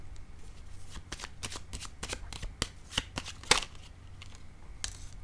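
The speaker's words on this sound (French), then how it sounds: "Je vais déposer une carte ici sur l'étoile à l'envers." Tarot cards riffled and shuffled at close range, a quick run of sharp crisp snaps and flutters in an uneven rhythm over a quiet room hum, with no talking.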